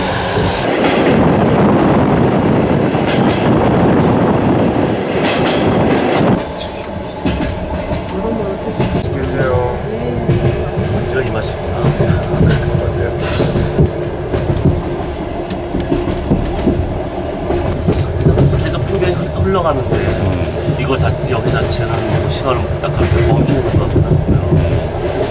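A Trans-Siberian train runs on its rails with a steady, loud rumble and rhythmic wheel clatter that continues without a break for the whole stretch.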